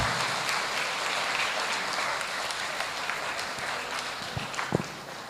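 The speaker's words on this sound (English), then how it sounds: "can we have a round of applause for Kalpana Miss?" A live audience applauds for a co-writer being introduced at a book event, steady dense clapping filling the whole stretch at a moderate level, with a few sharper individual claps standing out near the end.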